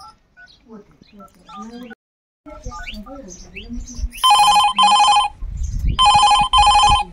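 A telephone rings in two loud, close double-ring bursts that cut in after a stretch of conversation, with voices continuing faintly beneath the rings in a comedic household scene.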